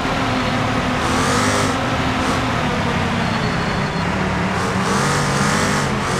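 A rear-wheel-drive car in the BeamNG driving game, its engine droning loud and steady throughout, with revs rising and falling as it drives on.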